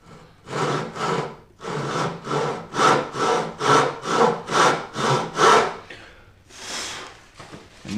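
A hand saw cuts a kerf in wood, about ten loud, even rasping strokes close at hand, then a pause and a couple more strokes.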